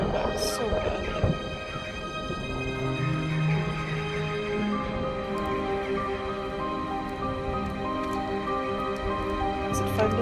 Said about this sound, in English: it does seem to now be raining